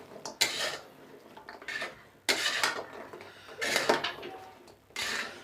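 Jaggery-coated khurme (shakkar pare) are stirred in a pan, producing irregular scraping and clinking of a utensil against metal in separate bursts, fairly faint.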